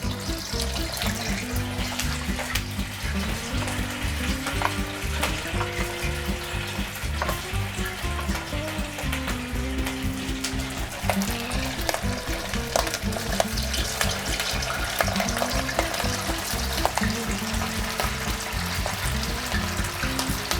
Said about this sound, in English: we're ready to fry up some polenta